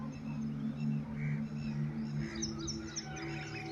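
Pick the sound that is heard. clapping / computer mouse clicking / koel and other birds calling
koel and other birds calling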